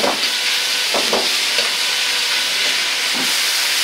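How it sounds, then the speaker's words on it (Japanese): Twice-cooked pork sizzles steadily as it is stir-fried with sauce in a wok, a loud continuous hiss with a few scraping stirs from the spatula and no voices. "ジャンと絡ませるように炒めていきます。"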